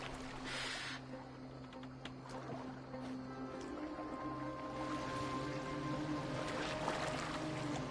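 A boat being steered across water in Assassin's Creed Valhalla, with a steady low hum and soft continuous water wash, a few light splashes, and a brief hiss near the start.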